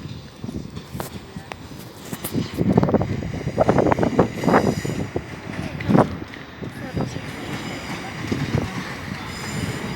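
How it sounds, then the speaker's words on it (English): A Class 450 electric train rolls through Clapham Junction station, its rumble swelling and easing as the cars pass, with wheel squeal and clatter, wind buffeting the microphone and a faint voice nearby. "There's a train."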